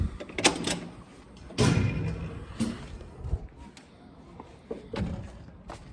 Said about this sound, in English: Excuse me while I gotta open this door.